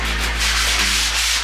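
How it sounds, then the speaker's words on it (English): Close, steady sanding across a wooden kitchen table top, a continuous dry abrasive rasp with a slight rhythmic back-and-forth swell and no voices. "Sand it until it smooths out."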